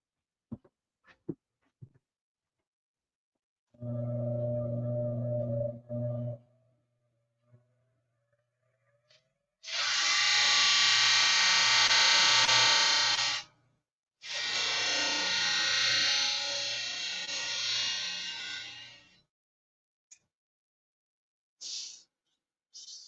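Sanding down a part during a bellcrank replacement, heard as two long, loud bursts of harsh broadband abrasive noise, preceded by a shorter tonal motor hum and a few faint clicks.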